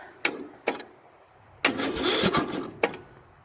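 A riding lawn mower with a weak battery cranks sluggishly. A few short separate clicks or bursts lead into a longer, labored churning attempt, then a final short crank, loud and close.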